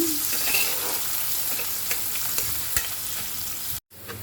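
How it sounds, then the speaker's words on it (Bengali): Onions and green chillies sizzle loudly in a hot wok, a dense continuous crackle with soft stirring taps, cutting off abruptly near the end; no speech. "এখন আমি পেঁয়াজ মরিচগুলো ভালো মতো ভেজে নেব"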